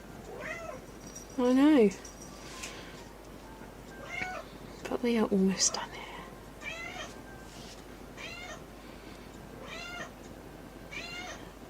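A house cat meows repeatedly and insistently, with several loud, close cries spaced through a quiet room as a person speaks briefly between them.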